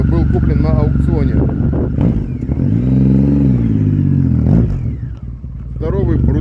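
A big, heavy Triumph Rocket III motorcycle engine revs up and holds a loud, rising-and-falling drone for a couple of seconds, with someone speaking before and after the rev.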